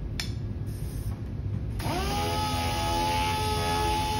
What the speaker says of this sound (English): important that the sanding is done with wet paper as well as a wet part